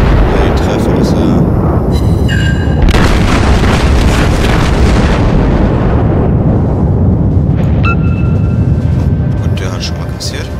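Heavy naval gunfire and shell explosions from the World of Warships game, with the Arkansas battleship firing: loud, continuous booming blasts and rumbling impacts fill the whole stretch, with a few brief tonal game effects near the end.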